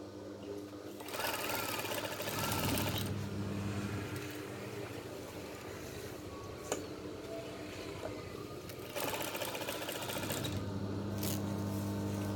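A sewing machine runs steadily for long bursts while stitching a car floor mat made from curtain fabric, its motor hum continuous and close, with brief pauses and shifts between runs.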